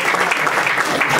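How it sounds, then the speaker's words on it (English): Audience at a college department event bursting into dense, sustained applause, loud and close, with many hands clapping at once for about a second. "a huge round of applause"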